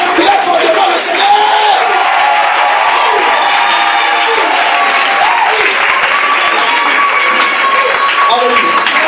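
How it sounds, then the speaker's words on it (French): Congregation at a church service led by a prophet applauding and cheering loudly, a dense, sustained wash of clapping and shouts filling the space throughout, with voices calling out within the crowd. "Acclame très fortement le Seigneur."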